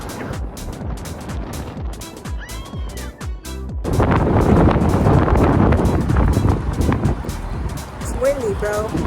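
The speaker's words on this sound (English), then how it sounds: "It's windy, bro." Strong wind gusts buffet the microphone outdoors on a blustery day, a heavy low rumble that swells and stays loud through the second half, with people talking over it.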